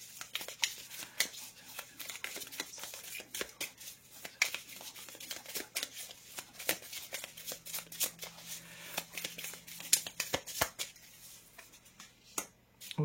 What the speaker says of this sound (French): Je vais d'abord sortir toutes les cartes.